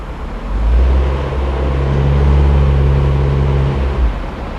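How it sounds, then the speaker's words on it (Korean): A car with an automatic transmission in drive is held at full load, its engine droning loud and steady for several seconds and staying under about 2000 rpm before easing off. "자, 제가 엔진에 전부하러 움직이도록 하겠습니다"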